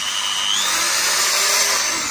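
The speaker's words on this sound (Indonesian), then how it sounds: "untuk awal kita ngebor itu bisa menggunakan kecepatan rendah" A J-LD electric drill runs steadily at low speed, a loud, continuous motor whine with a slight rise in pitch, close and alone.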